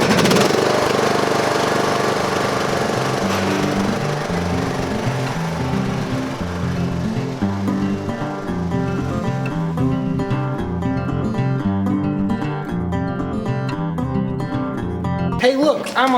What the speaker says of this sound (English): Hey look, I'm on a tractor.